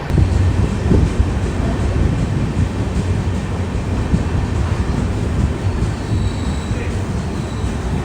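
A Thiruvananthapuram–Veraval Express runs through a station and slows to switch lines, heard from inside a 2AC coach as a steady, loud rumble and rattle of wheels and carriages, with no voices over it.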